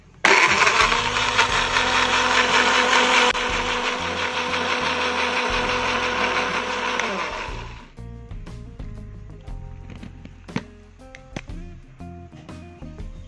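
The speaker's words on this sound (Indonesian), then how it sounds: "Langsung saja kita blender." A blender whirs loudly and steadily for several seconds, blending broccoli batter, then shuts off, leaving light clinks and rattles close by.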